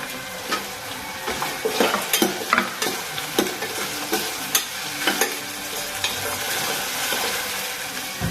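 Cashew nuts sizzling and frying in a pan at home, with scraping stir strokes and clinks over a steady crackle, fairly close and loud.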